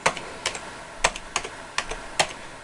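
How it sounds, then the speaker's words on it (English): Typing on a Tandy 1000 EX computer keyboard, distinct clacking keystrokes in irregular bursts, close and fairly quiet. "you're just gonna type"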